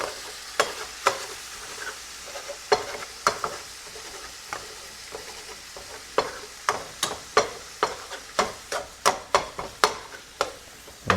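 Ground beef and bacon frying in a pan, a quiet sizzle broken by repeated sharp scraping and clacking strokes of a utensil stirring, growing more frequent toward the end; no talking.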